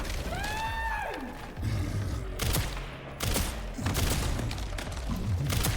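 Rapid bursts of gunfire from the video game Resident Evil Requiem, several loud close shots and clusters in quick succession, following a brief tonal whine at the start.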